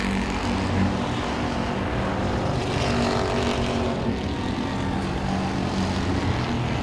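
Super Street race cars battling at Langley Speedway, a flat .395-mile oval, making a continuous broad roar of engines heard at some distance, steady and unbroken across the whole stretch.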